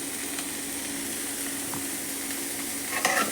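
Drumstick leaf poriyal stirring and frying in a pan, a steady soft sizzle with occasional scrapes of the spoon, a louder stir near the end, no talking.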